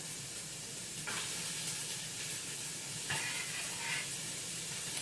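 Chopped onion goes into a hot pan for a Spanish chicken stew, giving a steady low hiss with two brief louder bursts of sizzle as it lands and settles.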